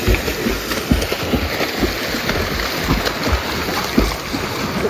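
Swimmers thrash through the water at the start of a swimming race in Kuttanad, a close, continuous churn of splashing with sharper slaps, rushing water and a light wash of wind.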